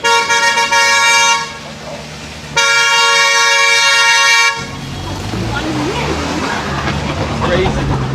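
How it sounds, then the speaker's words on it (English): Car horns honk in long sustained blasts on a narrow hill road in China, two loud stretches separated by a short gap, followed by engine and traffic noise with people talking. "And I think they honk coming around corners just to let you know because this road's so skinny"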